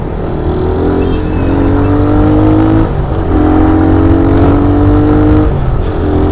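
A carbureted Suzuki Raider 150 motorcycle engine revs up loudly in repeated rising pulls through the gears, close and continuous, with traffic in the background.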